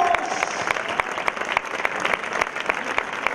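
An audience applauds a music band at its first concert after lockdown, steady dense clapping with sharp individual claps standing out throughout.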